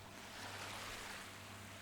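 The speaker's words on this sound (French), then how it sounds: "écouter le bruit des vagues dans le lointain" Distant ocean waves make a soft, steady wash of surf, faint and continuous with a low wind-like rumble and no distinct breaking crests.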